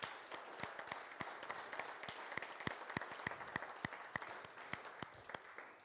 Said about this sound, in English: Can we give a round of applause for the team?